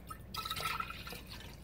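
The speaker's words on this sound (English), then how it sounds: "So what I've been doing is just pouring it in a pretty mason jar." Cold brew coffee poured into a 28-ounce mason jar, a steady trickling liquid stream with dripping and rising fill tone, close up and moderately quiet, with no talking.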